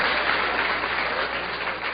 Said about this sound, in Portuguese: Essa merece aplausos.